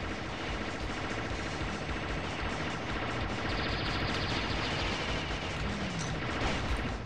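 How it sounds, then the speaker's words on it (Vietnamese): Dense, continuous gunfire from the top-down shooter game Alien Shooter, with rapid automatic bursts and explosions filling the whole stretch without pause. "Cái súng này đạn quá nhiều đạn luôn á."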